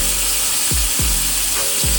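Jumbo shrimp frying in hot olive oil in a pan, a loud, close, continuous broadband sizzle with a few brief low knocks as pieces settle or the pan shifts.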